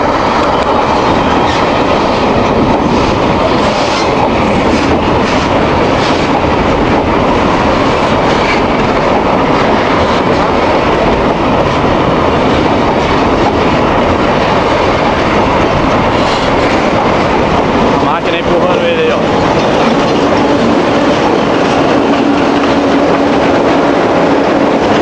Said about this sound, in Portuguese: Tá vindo um trem, aí a gente vai fazer a filmagem do trem subindo.